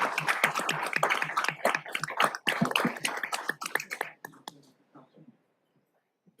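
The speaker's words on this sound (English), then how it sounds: "One more round of applause, please." At a city council meeting, a room of people applauds with dense, close clapping that continues for about four seconds, then thins out to a few scattered claps before falling silent.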